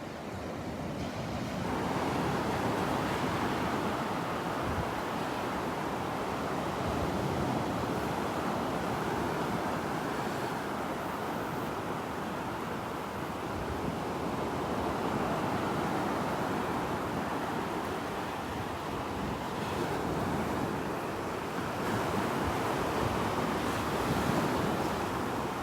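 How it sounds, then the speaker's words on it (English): Small waves breaking on the outer edge of a sandbar at Delnor-Wiggins beach, a continuous loud wash of surf mixed with strong wind buffeting the microphone for the whole stretch, with no voices. "Still some little but good-sized little waves breaking out there on the outer edge of the sandbar."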